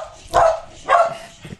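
A dog barks twice in quick succession, fairly close and loud, followed by a softer, shorter yip, with no talking over it.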